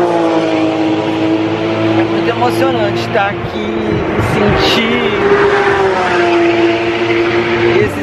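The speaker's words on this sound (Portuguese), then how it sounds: "esses carros ainda correndo aqui do nosso lado" Ferrari cars drive close by at the Ferrari museum in Modena and Maranello, their engines droning and revving loudly while someone talks over them.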